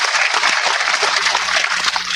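Audience applause for teachers and students at the inauguration of a coding programme in Guyana, steady dense clapping that fills the hall without pause throughout.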